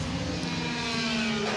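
A Ferrari with a 1.5-litre flat-12 engine races uphill at a speed hillclimb, giving a steady, sustained engine note that stays fairly loud over the whole stretch.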